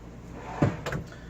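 A drawer in a 2017 Mallard M27 travel trailer slides open with two quick close knocks and a rattle, brief and near, heard alone.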